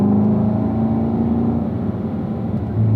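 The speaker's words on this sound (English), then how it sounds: "As you unwinding, squeeze that throttle, go from 3rd to 4th." Race car engine under acceleration on a track, a loud close steady drone that holds its pitch through most of the stretch, with a slight dip near the end where a gear change from third to fourth may come.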